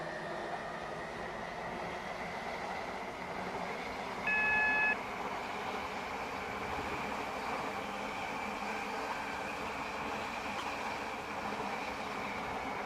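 A train in the Stepford County Railway game runs steadily with a continuous rumbling drone and faint high squeal, plus a short tonal beep partway through, no talk.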